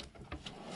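A kitchen pot and pan drawer on a child-friendly IKEA Veddinge kitchen slides with a soft wooden rub and a couple of quiet thuds, faint and brief.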